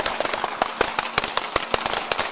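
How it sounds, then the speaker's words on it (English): Gunshots fired during a police bodycam incident at night, a rapid barrage of loud, sharp cracking reports in quick irregular succession, close and continuous for the whole burst with no voices over it. "Shots fired, shots fired, shots fired."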